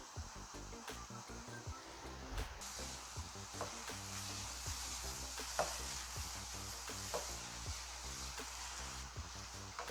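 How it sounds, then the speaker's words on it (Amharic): Meat and onion sizzle and are stirred in a pan for an Ethiopian alicha minchet abish stew, with a steady close frying hiss and repeated scraping stirs throughout and no talking. "እንደዚህ ስጋውንና ሽንኩርቱን በደንብ እንደዚህ እናሸዋለን"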